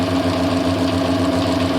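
Machined bevel (miter) gears running oiled under power: a loud, continuous mechanical whine and grinding drone with a steady tonal hum, close up and without talk.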